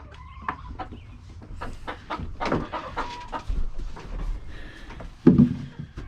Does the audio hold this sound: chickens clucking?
yes